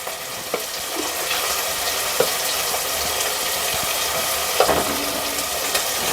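Tomatoes sizzle and fry in oil in a pan while egg biryani is being cooked, a steady close crackle with occasional stirring clinks and scrapes and no voices.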